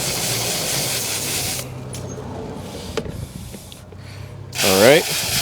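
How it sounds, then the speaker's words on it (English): Water sprays hard over car wash brushes, a steady rushing hiss that cuts off, with scattered knocks and handling noises, and then a brief renewed gush near the end. "Let me rinse my brushes real quick."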